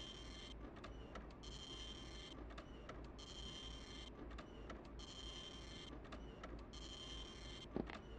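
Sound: printer noise in the video game Clock Tower

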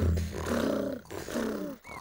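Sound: cartoon child imitating a purring tiger

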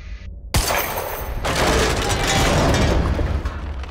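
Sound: gunshot at destructible object in video game Quantum Break

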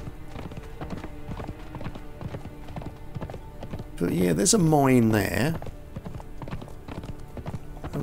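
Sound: horse hooves clip-clop in video game Conan Exiles

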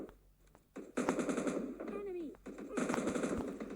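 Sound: gunfire in PUBG Mobile Lite video game

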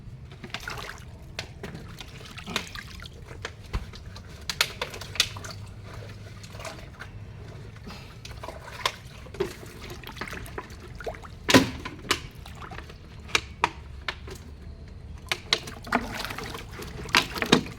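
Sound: water splashing while washing plastic gallon containers

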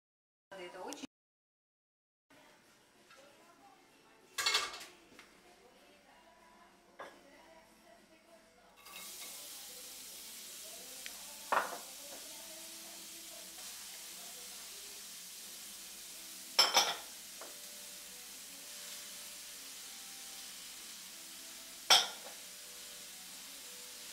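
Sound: vegetables frying in a pan

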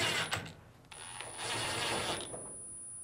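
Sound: driving in two mounting screws on a Fisher & Paykel appliance panel

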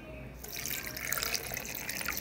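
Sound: water being poured for blending

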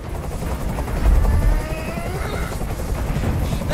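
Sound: helicopter hovering, from video game Detroit: Become Human

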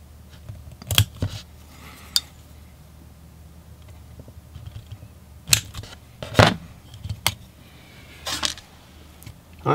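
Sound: cutting part of GoPro 7 Black case to clear cable

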